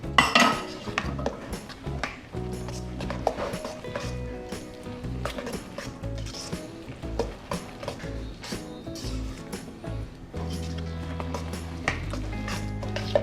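A spoon works milk into zucchini cake batter in a bowl, giving repeated clinks and scrapes against the dish at a steady, busy pace, fairly close.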